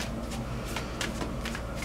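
A deck of angel cards shuffled by hand, a quick series of crisp riffling flutters and soft slaps, close and clear, repeating several times in a short burst.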